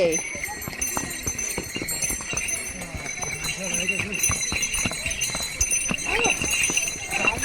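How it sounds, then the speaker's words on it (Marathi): Horses clop steadily up a steep, rough mountain path to Yamunotri, hooves striking in uneven close rhythm, with riders talking and the animals' bells or harness jingling faintly. "एकदम स्टीप रस्ता आहे बिचारे घोडे कसे चढत आहे"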